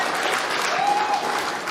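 An arena crowd at a US Open pool championship match breaks into sustained, loud applause that stays dense and even from start to finish.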